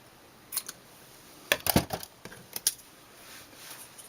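Scissors snip through paper for a handmade Christmas card, a few quiet, crisp cuts in short clusters, close and alone.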